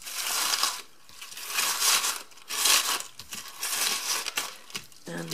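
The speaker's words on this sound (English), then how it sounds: "I'm going to be using the crinkle filler that's in the Spring Summer catalogue." Crinkle paper filler rustles and crunches in bursts as it is handled and stuffed into a small gift bag, close and fairly loud, with short pauses between handfuls.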